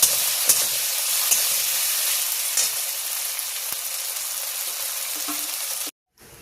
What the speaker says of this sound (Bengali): ওই আলুটাকে এবার তেলের মধ্যে দিয়ে ভালো করে ফ্রাই করে নেবো